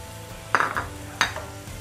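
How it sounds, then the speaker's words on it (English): Chopped onions dropping into hot oil in a pot for Nigerian fried rice, giving two short bursts of sizzle and clatter against a low steady hiss. "I'm going to add in my onions, add in your chopped"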